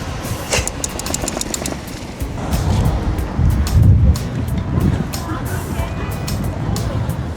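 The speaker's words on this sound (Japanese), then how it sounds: "本当に風が急に吹いてきたね。 風がすごいね。" Strong gusty wind buffets an outdoor scene, roaring as broadband rumble and microphone noise that swells in the middle and eases toward the end, with distant speech babble and traffic underneath.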